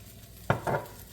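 Ghee goes into a hot frying pan with a quick, close pair of sizzling bursts, the second a little longer, over a faint background hiss.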